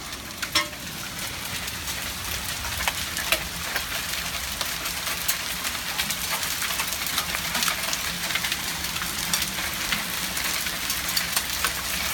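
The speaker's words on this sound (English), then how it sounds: "We are getting a thunderstorm right now, and it is coming with hail." Thunderstorm rain mixed with hail hitting outside, a dense steady hiss broken by scattered sharp pattering impacts, moderately quiet and continuous with no talk.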